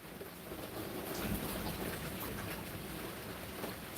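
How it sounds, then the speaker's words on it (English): Heavy tropical rain in Lorengau, Papua New Guinea, hisses steadily on surfaces close by, a dense unbroken wash of drops with a low rumble underneath, no voices. "It's been a very rainy last hour or so."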